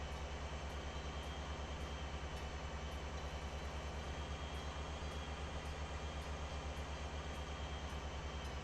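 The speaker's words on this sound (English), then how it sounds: "At least it doesn't sound like a weak engine anymore." A truck engine from the driving game Motor Town runs steadily throughout, a deep, dense idling rumble with a fast regular pulse, loud and continuous with no voices.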